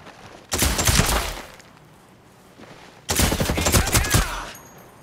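Automatic gunfire from the video game Ghost Recon Breakpoint comes in two loud, dense bursts of about a second each, separated by a quieter stretch of background ambience.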